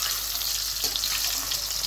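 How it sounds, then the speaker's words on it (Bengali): Four eggs frying in hot oil for an egg curry, a dense, continuous close sizzle and crackle with faint movement, no voices. "এখন ডিম 4টা ভেজে নিব।"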